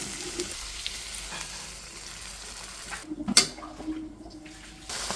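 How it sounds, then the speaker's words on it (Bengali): Eggplant pieces frying with browned onions in a pan: a low steady sizzle with scraping stir sounds, then a louder burst of spatter and clatter near the end, no talking. "বেগুনটা একটু ভেজে নেব"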